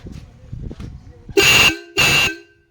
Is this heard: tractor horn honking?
yes